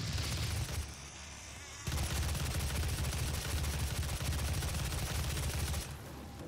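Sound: gunfire in the video game DOOM (2016)

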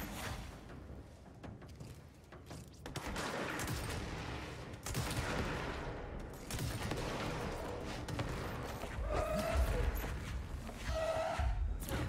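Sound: gunfire shooting at the player in a video game

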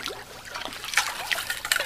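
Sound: rinsing a cooking container with water after scrubbing with sand

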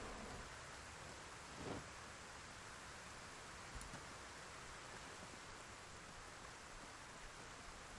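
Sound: heavy rain in the video game Project Zomboid

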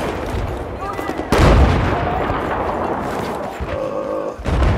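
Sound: mortar fire in Battlefield 4 video game

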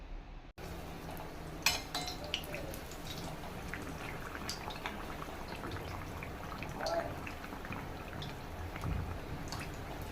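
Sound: bread patties frying in oil

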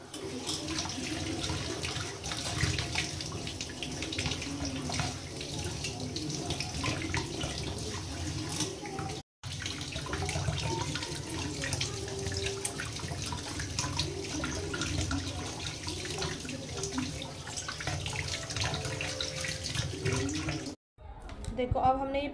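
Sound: anklets being rinsed under running tap water

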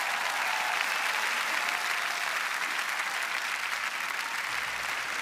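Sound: studio audience applause

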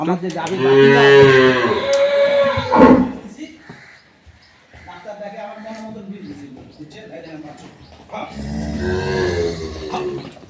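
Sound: dairy cow and calf on a farm

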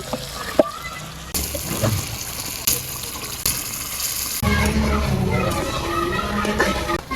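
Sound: chicken meat frying in spiced oil masala

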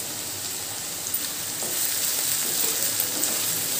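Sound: beans and egg frying in pan

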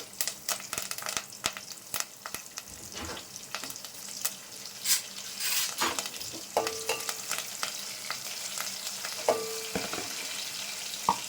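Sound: curry leaves and green chillies spluttering in hot oil

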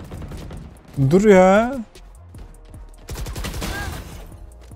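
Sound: gunfire in the video game Valorant

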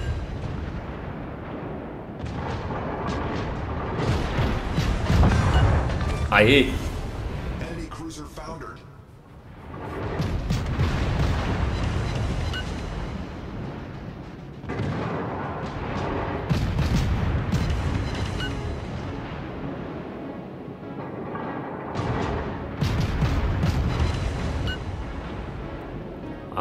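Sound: cruiser Erie gunfire in video game World of Warships

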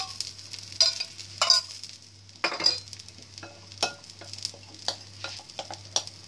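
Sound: vegetable yam snack frying in oil

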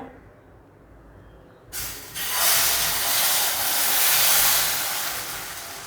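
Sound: aayate batter sizzling on a hot nonstick pan

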